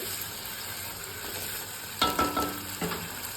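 Low sizzling of spices and rock salt sautéing in a pan, then a few quick scraping stirs with a spoon, close and fairly loud, over steady frying hiss.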